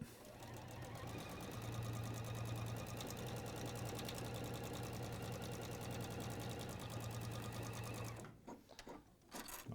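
A sewing machine top stitches fabric for a swing jacket in one continuous, fast, even run of humming and needle clatter, close and steady, then stops abruptly near the end, leaving soft handling noises.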